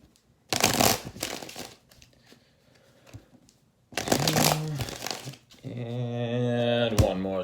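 Tarot cards shuffled by hand during a reading, two brisk riffling bursts separated by a quiet pause, followed by a voice.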